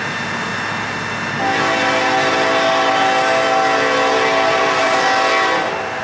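A westbound freight manifest train rumbles past a classic New York Central signal bridge in Huron, Ohio, with a steady roar of wagons and a sustained horn blast growing loud before easing, heard alone without talk.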